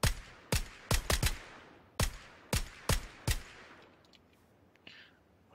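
Enemy gunfire in the PUBG battle royale game: about eight separate loud shots, spaced irregularly, some in quick pairs, then fading to quiet.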